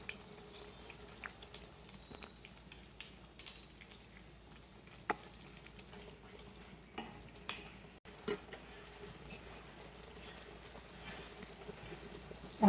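Spices with ginger-garlic paste and tomato purée frying in a pan for beef keema, a faint, steady low sizzle with occasional soft stirring scrapes and small ticks, no talking.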